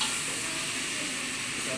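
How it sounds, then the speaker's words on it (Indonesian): Sambal goreng ikan asin being stir-fried in a pan with kecap and cherry tomatoes, a steady close sizzle with continuous stirring and scraping and no one speaking. "Nah, ini terus kita tumis."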